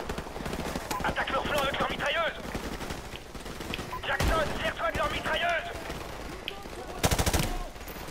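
Automatic gunfire from machine guns in Call of Duty Modern Warfare Remastered, loud bursts mixed with shouting game voices, with sharp shots cutting through near the end.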